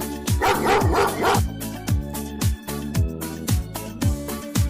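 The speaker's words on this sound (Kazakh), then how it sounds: "ит," A dog barks in a short burst of several barks early on, loud and close, over a steady rhythmic background music beat that continues after the barking stops.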